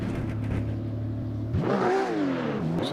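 A BMW M2 CS race car in a racing simulator at Laguna Seca holds a steady engine drone, then revs up and down through gear changes. The sound is close and continuous with no talk.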